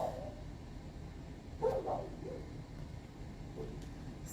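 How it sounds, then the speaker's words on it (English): A dog barks a few times in short bursts near the middle, moderately loud against a quiet indoor background, with no talking over it. "that was my dog barking"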